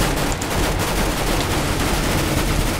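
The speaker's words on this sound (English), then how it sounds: "a lot of gunfire" Dense, rapid bursts of video game gunfire from CS:GO's Minecraft-style Mine Strike mode crackle continuously, a loud chaotic stream of overlapping shots with no pauses.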